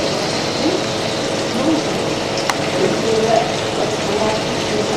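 Yufka pastry sheets are dipped one at a time into water for Kastamonu banduma, giving a steady wash of liquid sloshing and dripping with soft splashes throughout.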